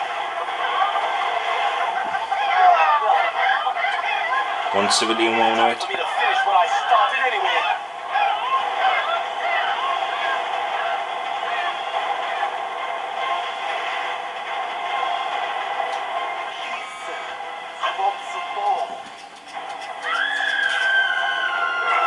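Chickens cluck continuously in the Family Guy video game, a busy layered flock sound under game ambience, with someone talking briefly partway through.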